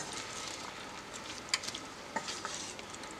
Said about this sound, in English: So we're going to saute these all together in the butter